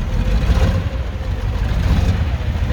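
KAMAZ truck engine running steadily just after a cold start at minus 20, a loud, rough low rumble close by with no pauses.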